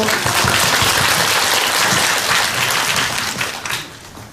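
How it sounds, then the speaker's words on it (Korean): A theater audience at a post-screening talk for the film Midnight Diner breaks into dense, loud, sustained applause welcoming two guests, with no talk over it, and it fades slightly near the end. "박수로 맞아주세요"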